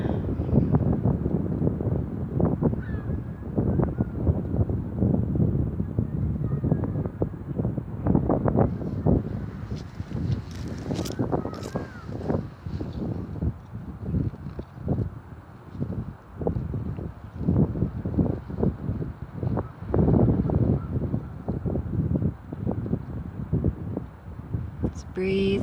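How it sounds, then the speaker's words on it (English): Wind blowing outdoors in nature, a steady rough buffeting rush across the microphone throughout, with a person talking over it. "I don't know, it's so windy."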